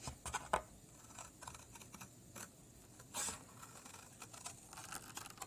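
Scissors snip through paper while cutting out heart shapes, a series of quiet, close, irregular clicks and crisp cuts with faint rustling.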